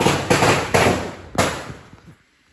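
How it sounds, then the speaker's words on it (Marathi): Firecrackers go off at a home in Konkan during the Ganpati festival: three or four sharp, loud bursts in quick succession, each trailing into crackle and echo before fading to quiet. "नाश्ता करायच्या आधी फटाके फटाके"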